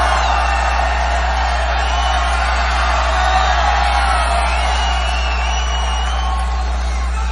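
A large crowd at a political rally in Little Rock, Arkansas cheers, whoops and yells in a sustained roar, with a steady low electrical hum beneath it.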